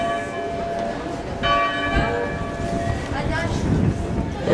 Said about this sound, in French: On vient d'entendre des cloches de Notre-Dame et Saint-Castor.